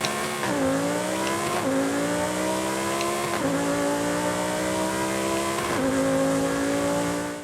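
A Lamborghini Huracán STO engine in Forza Horizon 5 revs hard and climbs through gears, each upshift dropping the pitch before it screams back up, loud and continuous with no talking.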